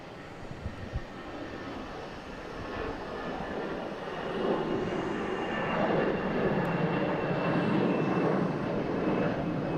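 An American Airlines Airbus A321 jet passes with a broad roaring engine noise that swells from a moderate rumble into a loud, sustained roar over several seconds, with no voices.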